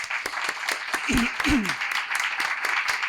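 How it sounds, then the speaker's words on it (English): Applause from an audience for the speakers on a digital skills policy panel, moderate clapping with individual claps audible and a couple of brief voices calling out over it. "let's give a big applause to our panelists"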